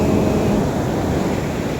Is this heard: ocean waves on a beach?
yes